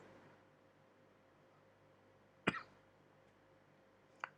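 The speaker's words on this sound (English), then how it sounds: "Uh-oh, I'm coughing." In a quiet room, one person gives a single sharp cough, then a shorter cough a couple of seconds later.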